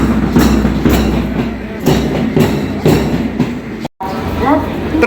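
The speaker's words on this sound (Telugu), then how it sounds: "Welcome to the Amrutha Bharat express. Train locomotive అయితే ఇది వచ్చేసి VAP 5 ఇంజన్ అయితే నడుస్తుంది." An Amrit Bharat Express train hauled by a WAP-5 electric locomotive gives a loud, regular clickety-clack of wheels over rail joints, with faint voices in the background.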